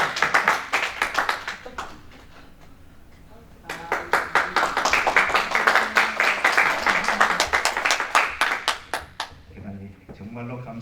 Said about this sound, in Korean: 우리 큰 박수로 찬양해 주시기 바랍니다